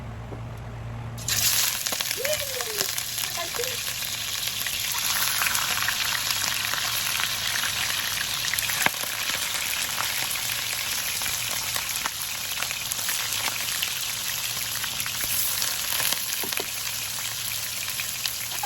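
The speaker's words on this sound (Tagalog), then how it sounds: "mainit na po ang ating mantika. So, ang gawin po natin, i-fry po natin ng kaunti ang isda" Fish frying in hot cooking oil gives a steady, dense crackle and sizzle, close and even for the whole stretch, with a faint brief clink near the start and no talking.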